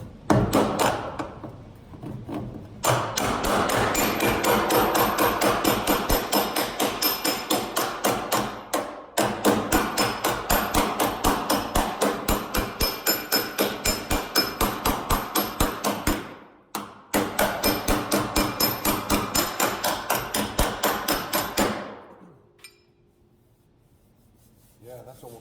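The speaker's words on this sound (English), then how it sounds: "I'm using this slapper to bang on the front of it, and it's gonna push that dent out." A slapper hammer bangs a dent out of sheet metal over a dolly in fast, even bursts of sharp metallic strikes, loud and close, with two brief pauses before the hammering stops and near silence follows.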